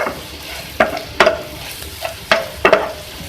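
Eggplant-tomato bharta stirred and mixed in a frying pan over a low sizzle, with five sharp spoon scrapes and knocks against the pan at uneven intervals, close up.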